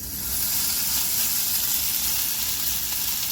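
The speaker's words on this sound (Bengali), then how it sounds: "দেখো আমার ছেলে পকোড়া ভাজছে" Pakoras frying in hot oil give a steady, loud, close sizzle with a continuous hissing crackle, with no voices over it.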